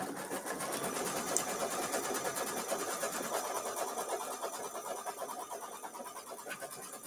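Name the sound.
embroidery machine stitching fabric outside the batting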